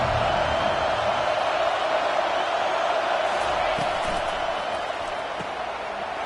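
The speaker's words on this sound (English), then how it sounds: "This crowd bringing an ear-splitting welcome to their visitors." A stadium crowd in a football video game roars in a steady, loud, unbroken wash that fades very slightly toward the end.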